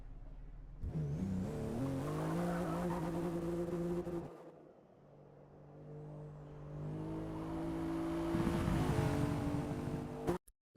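A six-cylinder racing car engine in a video game revs and climbs through gears, drops away briefly, then builds again to a loud whine before cutting off abruptly.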